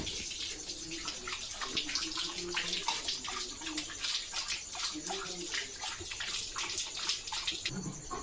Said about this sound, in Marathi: पाणी पास त्याला.